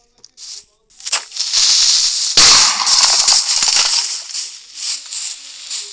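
A sudden loud blast in Minecraft cuts in partway through, preceded by softer crackling bursts and followed by lingering crackle and hiss that fades in uneven pulses.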